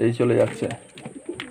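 Pigeons coo in soft, repeated throaty calls close by as drops are given during their vaccination, with someone speaking briefly over them.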